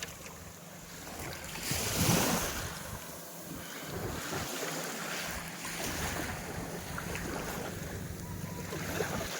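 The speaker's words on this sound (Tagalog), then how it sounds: "Ganyan lang yung dagat oh." Sea waves wash steadily around a small fishing boat, with constant wind buffeting the microphone and a rushing swell that peaks briefly, no voices heard.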